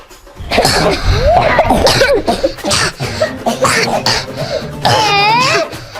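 Loud, close bursts of coughing, one after another, mixed with sneezing and throat-clearing sounds and no clear pauses between fits.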